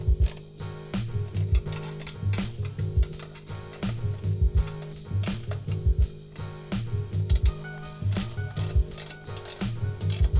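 A ratchet snugs down the hardware bolts on a Lowbrow Customs Rogue motorcycle fender, producing loud, close, rapid clicking in steady back-and-forth strokes without speech.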